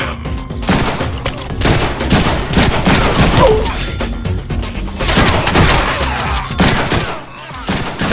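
Dense video-game gunfire from the Deadpool game: loud continuous bursts of rapid shots and booms packed together for the whole stretch, close and overwhelming.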